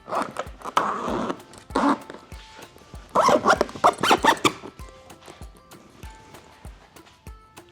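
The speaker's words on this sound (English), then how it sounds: "And I'm gonna walk the zipper back in." A tent zipper on a truck camper drawn closed in several short, rasping pulls with brief pauses between them, close up and fairly loud.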